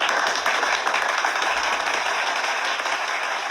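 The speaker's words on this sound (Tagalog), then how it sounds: "Isang palakpak para kay Inday Sayad" Applause for the DepEd Secretary, a steady dense crackle of many clapping hands, loud and unbroken throughout.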